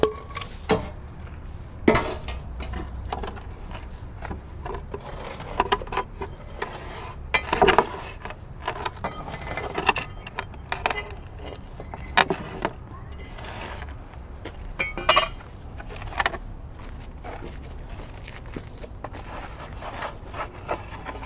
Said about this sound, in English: so it's time to take the bread out of the oven